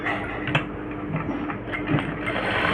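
A sewing machine runs a half-inch stitch along a garment neckline, giving a rapid, steady mechanical chatter with small clicks and knocks at close range.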